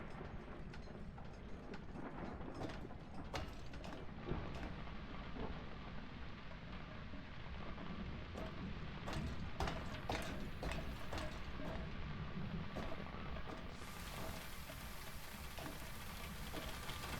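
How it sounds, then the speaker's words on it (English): In the horror game Phasmophobia, a map's rain hisses as a constant, fairly quiet wash, with scattered faint clicks and creaks mixed in and a brighter shift in the hiss near the end. "I really like the sound of the rain on this map"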